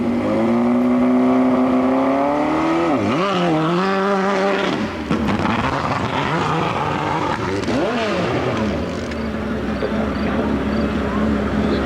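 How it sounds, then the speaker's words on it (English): A hillclimb motorcycle at an AMA event in Monson, Massachusetts sputters and misfires, its loud engine tone wavering and dipping unevenly, while an announcer talks over a constant crowd and track din. "Got some misfiring going on there."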